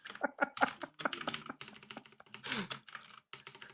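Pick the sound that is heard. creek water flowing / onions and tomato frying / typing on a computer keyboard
typing on a computer keyboard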